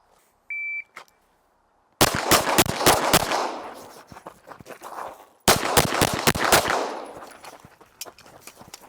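Two rapid strings of handgun shots fired in a return-to-center shooting drill, each fast cadence starting after a shot-timer beep, loud and sharp with ringing decay and no talk.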